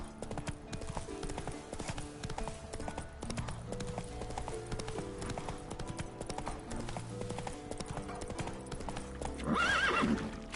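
A horse gallops in a video game, with steady clip-clop hoofbeats running throughout, close and fairly loud, ending in a sharp whinny near the close.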